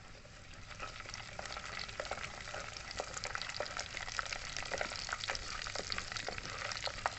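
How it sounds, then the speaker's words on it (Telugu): Cumin seeds and urad dal tempering in hot oil for an amla and red chilli pickle, a soft continuous frying crackle with scattered small pops, quiet and close, no talk. "తాలింపు గింజలతో పాటు జీలకర్ర అలాగే మినపప్పును తీసుకున్నామండి మినపగుళ్ళు ఇవి మొత్తం వేసేస్తున్నాను నూనె వేడెక్కింది"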